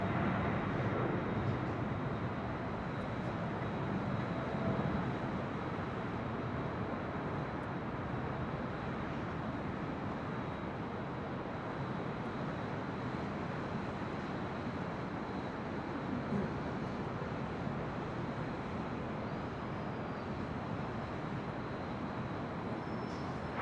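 Heavy jets departing LAX make a broad, steady roar that holds for the whole stretch, heard from a high vantage point near the airport with no nearby voices.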